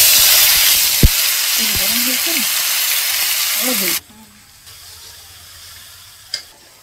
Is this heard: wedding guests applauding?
no